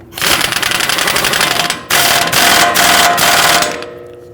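An impact wrench rattles loudly and continuously while tightening the axle nut on a rear CV axle of a 2010–2019 Ford Taurus, two long bursts with a brief pause, then winding down.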